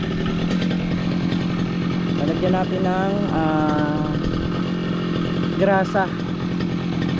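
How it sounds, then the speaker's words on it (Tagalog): A grass cutter's small engine runs close by, holding a steady buzzing drone the whole time while someone talks over it. "Ayan yung grass cutter, ini-smoothing pa rin natin mga troops."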